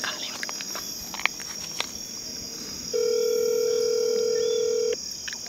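Phone call placed on speakerphone: a steady ringback tone sounds for about two seconds midway, over faint background hiss and a few soft clicks, with no talking.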